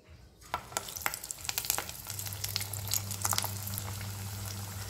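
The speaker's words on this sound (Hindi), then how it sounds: "अब हम इसको फ्राई करेंगे।" Leftover-lentil kebabs coated in sesame seeds sizzle and crackle in hot oil in a pan, starting with a few scattered pops and building to a steady, close frying hiss.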